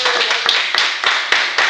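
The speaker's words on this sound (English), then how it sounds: "Let's give a round of applause for Walter." Live audience applause and clapping for Walter Searcy at a Long Beach beach show, with a steady dense patter of claps, a few sharper accents and some voices mixed in.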